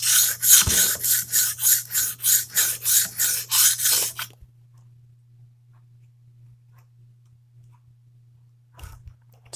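A cleaver blade is drawn across a sharpening stone in about a dozen quick, rhythmic rasping strokes, up close, before the scraping stops and only a faint low hum remains.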